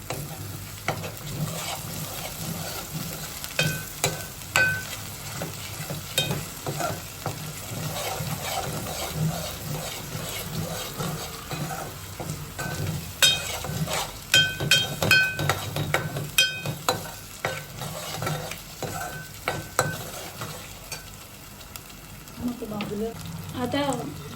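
A Manchurian mixture with soy sauce is stirred and mixed in a hot pan, giving a steady sizzle broken by frequent scraping and clinking strokes of the spoon against the pan, close and fairly loud.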